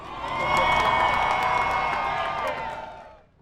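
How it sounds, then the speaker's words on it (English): A crowd at a bricklaying world championship cheers and whoops in a loud, sustained roar of mixed voices that swells, holds, then fades away at the end. "Crowd, let me hear you."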